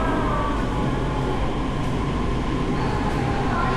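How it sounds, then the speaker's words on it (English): A Saigon Metro train pulls into a station on the line out of the city, a steady loud rumble of wheels and motors filling the platform without a break. "And here comes the train."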